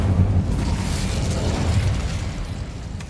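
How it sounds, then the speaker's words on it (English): Incendio fire spell cast in Hogwarts Legacy, a loud roaring burst of flame with a low rumble that sustains and slowly fades over about three seconds, with no talking. "Incendio."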